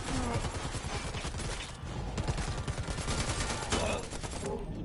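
Rapid gunfire in an online shooter video game, with dense bursts of shots going on almost without pause, loud and close, under faint talk.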